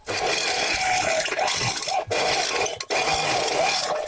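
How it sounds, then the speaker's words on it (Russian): A metal hand file rasps around the edge of a drilled central hole in a frying pan, steady back-and-forth filing strokes close and loud with two brief pauses. "Потом слегка дорабатываем центральное отверстие при помощи напильника."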